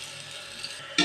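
Onions frying in a pan for a spicy chicken pulao, a soft steady sizzle close by with a faint scrape of stirring and a sudden louder hiss at the very end.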